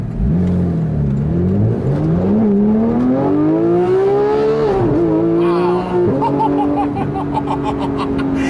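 A 2014 Porsche 911 GT3 with a naturally aspirated 475-horsepower flat six revs up hard, its rising howl broken by quick, aggressive PDK gear shifts, loud and close throughout.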